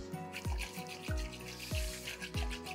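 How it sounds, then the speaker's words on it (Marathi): A glass of water is poured into a pot of kadhi in a home kitchen, making a short run of soft watery splashes and gurgles that repeat several times close to the microphone. "ह्याच्यामध्ये एक ग्लास मी पाणी टाकणार आहे"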